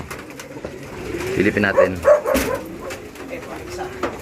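Off-color racing pigeons in a loft in Meycauayan, Bulacan give soft, throaty coos clustered in the middle, close by, while someone talks.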